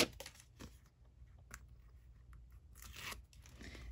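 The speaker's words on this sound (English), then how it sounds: "then I'm gonna peel this tape off" Tape being peeled off a handmade paper mini album, a quiet close sequence of short crinkly tearing and crackling bursts separated by near silence.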